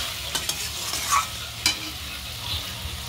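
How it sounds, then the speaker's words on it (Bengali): Food stirred and fried in a pan, with a steady sizzle beneath a few sharp scraping strokes from the stirring utensil, close and moderately loud, no voices. "একটু ভাজা ভাজা হোক ভালো করে।"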